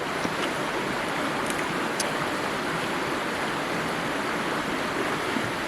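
Natural spring water flowing steadily in the Kaz Mountains, a constant close rushing wash with no breaks and no talking.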